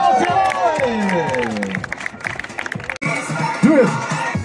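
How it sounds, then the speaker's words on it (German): Crowd at the 2024 Riva del Garda bike festival cheering and applauding, with loud shouts and whoops rising over sustained clapping and voices throughout. "auch ein bisschen Applaus von allen hier"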